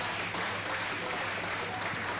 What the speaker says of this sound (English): So let's give these guys all a big round of applause again.